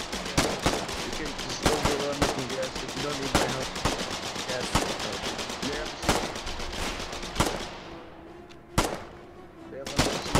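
Rapid bursts of automatic gunfire in the video game Colonial Marines as a foxhole is suppressed, loud sharp cracks repeating through the clip with a denser rattle and a brief lull near the end.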